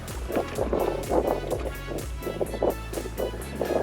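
Wind blowing along a South Louisiana shoreline during redfish and black drum fishing, heard as gusty low buffeting rumble on the microphone, close and fairly steady, with no clear talking.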